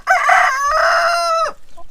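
A backyard chicken gives one loud, close, drawn-out crowing call lasting about a second and a half, followed by a couple of soft, brief clucks.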